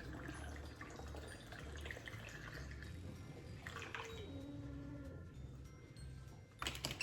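Homemade pine cleaner is poured through a strainer as a steady, close liquid rush that runs the whole time and rises briefly at the end, with no voices.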